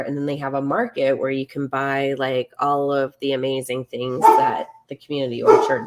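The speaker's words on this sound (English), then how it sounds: "You guys can hear my dogs barking." Dogs bark indoors a couple of times near the end, short sharp yaps partly masked by a person talking steadily in the foreground.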